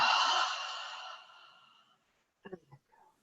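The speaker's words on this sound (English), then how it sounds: "take another breath." During a breathwork and relaxation exercise, one long, deep, close exhale fades out slowly, followed by a few quiet breathy snorts or small vocal sounds.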